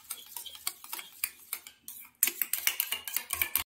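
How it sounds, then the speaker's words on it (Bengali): Yogurt with lemon being whisked by hand in a bowl for a Bengali hilsa pulao, giving a quick run of light, sharp clicking taps of the whisk against the bowl, fairly close, with a short pause partway through. "তারপরে দইটাকে কিন্তু ফেটিয়ে নেওয়া হচ্ছে"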